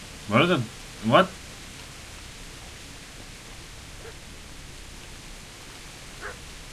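Two loud dog barks in close succession from the game Kingdom Come: Deliverance, followed by a quiet noisy background with faint distant sounds.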